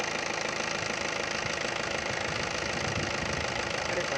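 Steady close-up idle of a Maruti Swift Dzire VDI diesel car engine running smoothly, an unbroken even drone with a light rhythmic diesel clatter and no talking.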